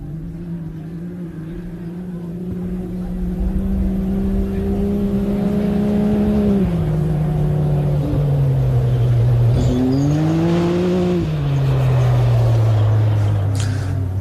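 A rally car at the ARB Hillston Gap440 roars past a spectator area, its engine note loud and close with a sustained rising pitch, a dip near the middle, then a fresh climb as it accelerates on through.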